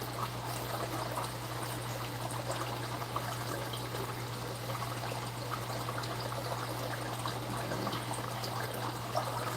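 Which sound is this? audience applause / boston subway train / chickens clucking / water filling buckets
water filling buckets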